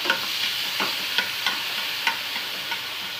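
Chopped onion and green chilli frying for a mughlai paratha filling make a bright, steady sizzle. Regular light scrapes and taps of a stirring spoon sound about twice a second, close up.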